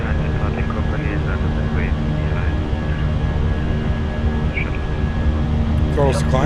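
Jet engines of an Airbus A320 with IAE engines in Microsoft Flight Simulator spool up to a steady loud roar during takeoff, with radio chatter and voices over the continuous drone.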